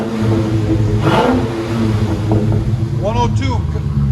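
Dodge Challenger 6.4L HEMI V8 with its mufflers cut off revs loudly and close by in a steady, deep exhaust roar. People talk over the engine.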